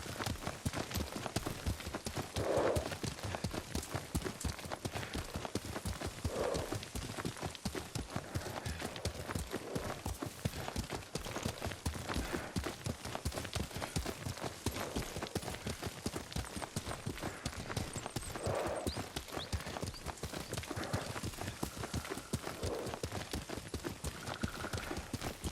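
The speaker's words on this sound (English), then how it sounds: "Lord Sakai taught me to ride a horse." Horse hooves clip-clop steadily in a continuous rhythm while riding in the video game Ghost of Tsushima, running throughout at an even, moderate level with no talk over them.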